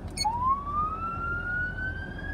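An electronic siren on an MTC Master 75 emergency vehicle winds up, a single rising wail that climbs and holds near, over a low rumbling background.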